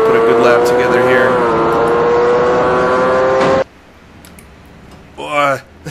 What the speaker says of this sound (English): We've blown the engine.